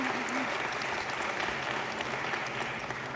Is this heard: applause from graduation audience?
yes